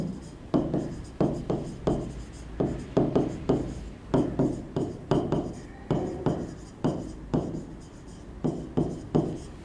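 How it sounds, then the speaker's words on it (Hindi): Pen or chalk writing notes on a board, a series of short scratchy strokes in bursts with brief pauses between them, close and fairly loud. "इसको मैं थोड़ा और डिटेल में लिखता हूँ"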